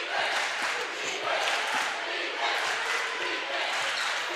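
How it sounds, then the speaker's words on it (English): Boisterous home crowd of Quitman fans roaring and cheering steadily in a high school basketball gym during a 2A playoff game, a loud continuous swell with faint court sounds beneath. "The Quitman crowd is alive."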